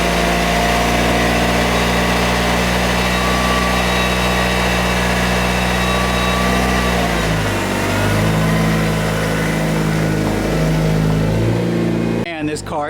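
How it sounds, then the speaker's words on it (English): A 2006 Mitsubishi Evo 9 MR six-speed with a Turbosmart blow-off valve idles steadily nearby, its low rumble constant for most of the stretch, with a brief shift in pitch near the end and a voice talking over it. "Let's start the Evo and go."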